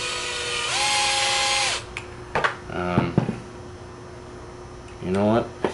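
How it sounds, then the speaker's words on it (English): A power drill buzzes in a sustained burst at lowered speed, driving into PVC conduit fittings, then quieter whirring and clattering follow, with brief voiced sounds in between. "I'm going to drill this in just a little bit"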